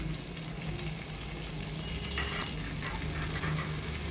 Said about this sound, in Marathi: तडका पॅनमध्ये मी 1 मोठा चमचा बटर घालून घेतलं आहे. त्यामध्ये थोडंसं जिरं घालायचं आहे